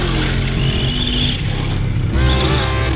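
A Traxxas RC car drives on grass near a skate park, its motor a loud continuous buzzing whir that rises in pitch near the end.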